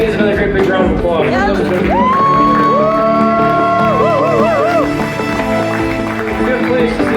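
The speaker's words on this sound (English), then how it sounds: "These ladies, another great big round of applause." An audience applauds and cheers for bikini competitors at a natural bodybuilding show, with loud, steady clapping, whoops and long rising whistles over crowd voices.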